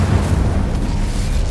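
Incendio fire spell cast in Hogwarts Legacy, a brief, loud, roaring burst of flame with a deep booming rumble that holds steady for its whole length.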